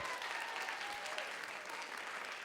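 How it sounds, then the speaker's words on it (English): Students at a middle school book quiz competition clap for themselves, a steady, even wash of crowd applause filling the room from start to finish with no talk over it. "give yourselves a round of applause"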